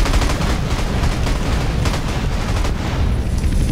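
Dense, continuous automatic machine gun fire with heavy booming low end, a sustained rattle of shots and explosions in a loud synthetic battle mix, in the video game GTA San Andreas.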